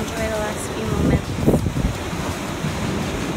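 Ocean surf washing onto a sunny Curaçao shore, a steady broadband wash with a louder swell near the middle, mixed with wind noise on the microphone and a voice speaking briefly.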